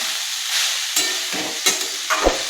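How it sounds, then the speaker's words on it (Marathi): Lemon rice with lemon juice is stirred in a pan over low heat, with a steady close sizzle broken by a few scraping strokes of the spoon and no talking. "आता हे सर्व व्यवस्थित मिक्स करून घ्यायचं आहे"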